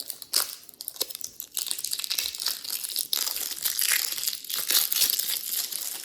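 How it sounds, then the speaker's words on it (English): Plastic packaging of a crystal slime kit cut and pulled open up close, with irregular crinkling and crunching rustles, alone without talk. "so let's open the crystal slime. Let's snip it."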